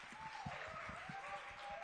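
Applause from a studio audience on a Hindi television talk show fills the clip, a dense continuous patter of many hands clapping at steady loudness throughout.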